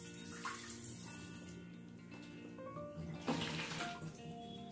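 Filtered water pours and splashes over food being washed by hand, a close, steady rush with brief louder sloshes partway through, no talking.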